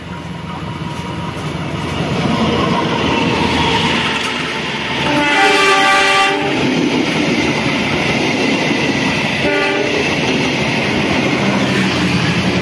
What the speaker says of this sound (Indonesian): kita akan tunggu kereta api Baturaden untuk melintas langsung di stasiun Karangsari